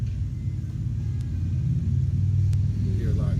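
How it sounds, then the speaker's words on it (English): Traffic rolls along a residential street as a low, steady engine rumble of passing cars, building slightly toward the end as a vehicle draws nearer, heard outdoors at night. "You hear a lot of traffic goes by our street now."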